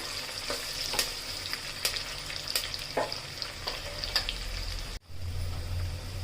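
Onions, green chillies and curry leaves fry in oil for a village-style goat offal fry, a continuous sizzle punctuated by sharp spatula clacks roughly every second, with a brief dropout near the end.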